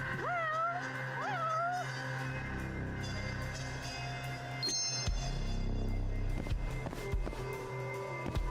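Cats meow in the Judgment video game, two rising, wavering cries early on, then a busier stretch of scattered clicks and crackling pops over a low background hum, with no talking.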